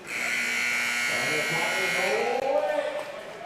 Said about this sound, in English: that is where the buzzer will bark